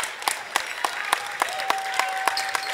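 A crowd in the closing seconds of an Elmhurst vs Wheaton women's college basketball game claps in steady, rhythmic unison, loud and close, with a sustained whistle-like tone joining partway through.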